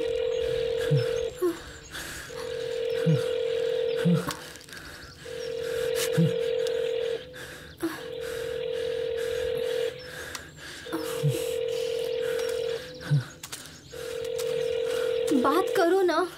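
A telephone's repeating tone sounds in regular bursts with short gaps between them, while people talk quietly underneath.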